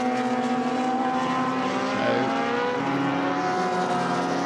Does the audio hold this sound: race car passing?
yes